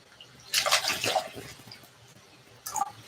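Water pours onto planted lettuce in two short splashes, a longer one near the start and a brief one just before the end, fairly soft and close, with a quiet pause between.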